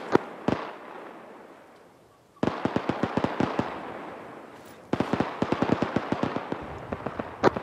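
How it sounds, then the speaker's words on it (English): Friendly machine gun fire in the video game ARMA 3: rapid bursts of sharp automatic shots, one brief burst followed by two longer strings of fire separated by short pauses, loud and fairly close, with no talking. "That machine gun fire is friendly."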